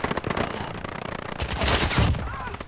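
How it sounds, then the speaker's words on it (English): An unsuppressed gun in Modern Warfare fires in rapid automatic bursts, loud and close, its dense rattling reports swelling midway through, with brief speech mixed in. "The unsuppressed sounds horrifying."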